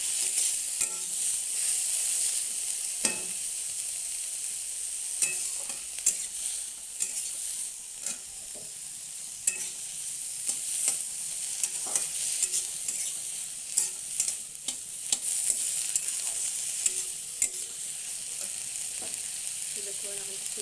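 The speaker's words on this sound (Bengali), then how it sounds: "হালকা একটু নেড়ে ছেড়ে এগুলো একটু ভেজে নেব নরম হওয়া পর্যন্ত।" Ingredients for a dimer kofta curry paste fry in a pan until soft, giving a continuous faint sizzle broken by sharp, scattered clicks of a spatula stirring against the pan.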